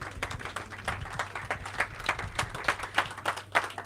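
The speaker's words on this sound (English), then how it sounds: "I think we should stand up and give the ladies a huge round of applause" A summit audience gives a round of applause for the ladies, with distinct claps in an uneven rhythm, moderately loud and fairly close, rising and falling over a few seconds.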